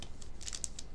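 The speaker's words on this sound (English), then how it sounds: "Oh, that was a good snip." Scissors cut open a Weiss Schwarz Gun Gale Online trading card booster pack: a quick run of small, crisp metallic snips close to the microphone over faint background hiss.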